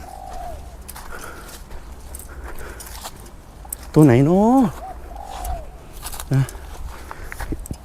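A large dove (spotted dove) gives one loud, close, rising coo lasting under a second, followed by a shorter, softer call, at a dove-decoy hunt in Thailand; people talk quietly throughout.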